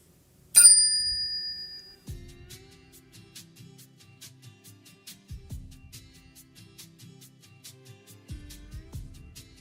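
A bright bicycle-style bell rings once, sharp and loud with a quick fading ring, followed by quieter clicking and thudding from spin art being made.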